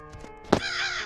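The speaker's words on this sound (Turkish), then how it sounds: "Burada bir karga var." A crow caws once in the horror video game Granny, a short harsh call standing out over a soft ambient game background.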